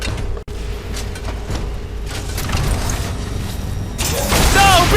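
Heavy booming blasts from a Titan's shoulder cannons in Titanfall 2 roll out over a loud, rumbling battle, building toward a dense, noisy barrage near the end.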